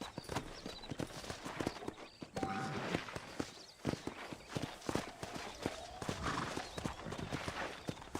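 A horse in the Western video game Red Dead Redemption walks up to a hitching post, hooves clip-clopping at an unhurried, uneven pace with a whinny, some character speech and soft background game ambience.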